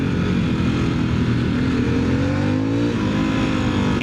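A stock 2025 Harley-Davidson Sportster S engine roars loud and close while riding, holding a dense, continuous revving drone with pitch slowly rising and shifting, no voices over it.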